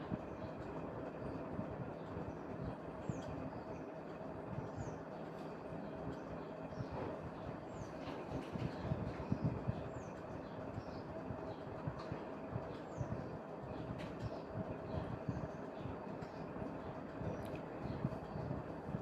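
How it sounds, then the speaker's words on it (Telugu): A mixer grinder grinding onion with salt and chili powder for onion pickle whirs steadily and continuously at a low, even level, with no pauses. "ఇప్పుడు మిక్సీ పట్టుకుందాం"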